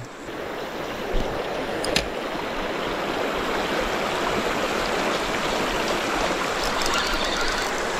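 A waterfall and stream rush in a steady, loud, broadband wash throughout, with a couple of faint clicks near the start and no voices.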